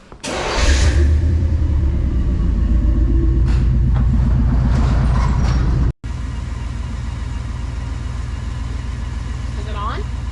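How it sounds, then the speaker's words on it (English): A 1991 GMC Sierra pickup, with its timing advance wire unplugged, cranks and fires up in a garage, then settles into a loud, steady idle that briefly cuts out and resumes. "Now the truck needs to start, right?"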